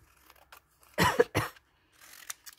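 Two quick, harsh coughs close by in an otherwise quiet room, with faint rustling before and after.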